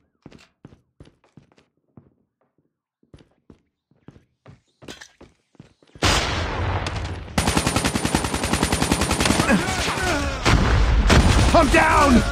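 Loud, dense bursts of rapid automatic gunfire and impacts from Call of Duty Mobile in a hardpoint match, erupting after a stretch of faint scattered taps and footsteps and continuing without pause to the end.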